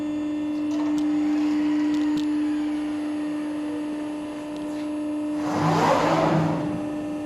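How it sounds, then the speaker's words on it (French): A Durma 20.60 press brake hums steadily while running a program, with brief clicks early on and a louder burst of mechanical whirring and motion near the end as the back gauge fingers and slides move. "je vais essayer de vous montrer simultanément le lancement du programme avec le déplacement des différents doigts et coulisseaux de la machine"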